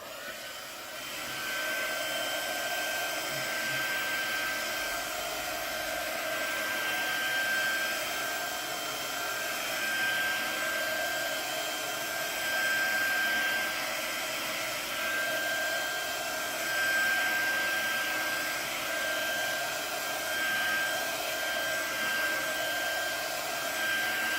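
Hair dryer blowing steadily on a craft journal background, a constant loud whirring hum with a faint high whine that holds without a break for the whole stretch, with no talking.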